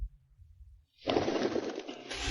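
A homing pigeon coos, a soft low murmur at first, then after a short pause a louder, fuller burst of cooing up close.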